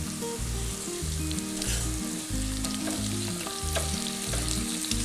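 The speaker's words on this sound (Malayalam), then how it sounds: "ഇതുപോലെ ബ്രൗൺ നിറമാകുന്നത് വരെ ഫ്രൈ ചെയ്തെടുക്കണം കേട്ടോ." Chicken pieces frying in oil over a low flame until browned, a steady close sizzle with dense crackling that runs the whole time with no talking.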